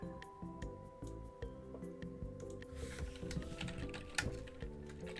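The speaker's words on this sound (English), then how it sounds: "Just mash the fucking keyboard." Fast, uneven typing on a computer keyboard, a dense patter of close key clicks with a few louder clacks, heard alone without talk.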